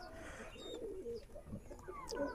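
Saki teddy pigeons in a loft give soft, low cooing calls near at hand, several throaty coos rising and falling over faint background chirps.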